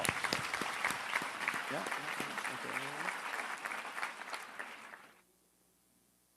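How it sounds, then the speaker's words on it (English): Audience applause at a seminar-style talk, loud sustained clapping from a crowd for about five seconds before cutting off abruptly, with someone speaking briefly over it. "Give a round of applause."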